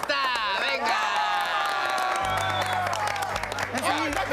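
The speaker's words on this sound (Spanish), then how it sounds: "Aplauso por la amistad." Studio audience on a Saturday variety television show breaks into applause and cheering, a crowded mix of clapping, shouts and whoops heard under loud overlapping voices and music-like tones throughout.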